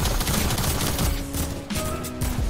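AK rifle fire in a video game, rapid bursts of gunshots crackling close and loud over about two and a half seconds, with no voices.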